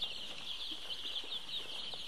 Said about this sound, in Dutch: er zijn nieuwe kuikens op het bedrijf.